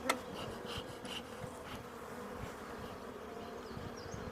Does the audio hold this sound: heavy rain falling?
no